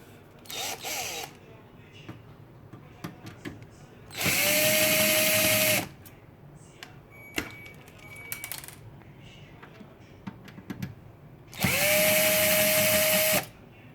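A power screwdriver unscrews a desktop PC power supply in two distinct whirring bursts of about a second and a half each, close and loud, separated by small clicks and handling knocks on a workbench.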